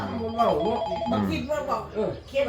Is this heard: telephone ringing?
yes